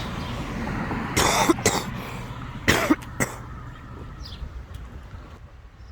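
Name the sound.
smoker's cough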